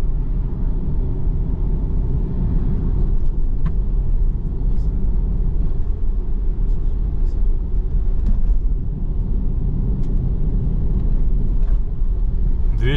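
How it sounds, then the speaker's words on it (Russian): Route 225 bus driving through the town of Esik, Kazakhstan, heard from inside as a steady, loud low engine rumble and road drone, continuous with faint rattles and clicks over it. "Двести двадцать пятый маршрут. Автобус едет."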